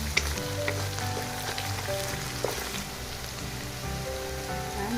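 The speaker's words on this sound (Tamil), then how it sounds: "நல்லா பொரிஞ்சு வருது." Chilli butter prawns fry in a pan with a soft, continuous crackling sizzle, fairly quiet and close, with occasional light pops and faint stirring clicks.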